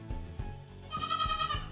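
Goats bleating on a farm, several wavering calls overlapping, close and fairly loud, with a brighter, strained cry in the second half and no talking.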